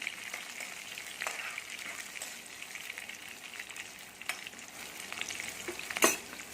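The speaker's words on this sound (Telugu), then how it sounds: "పచ్చిమిర్చిని కూడా ఆయిల్లో ఫ్రై చేయాలి" Green chilies fry in hot oil for a spinach fry, giving a steady, close crackling sizzle throughout, with scraping stirs and a sharper pop near the end; no one speaks.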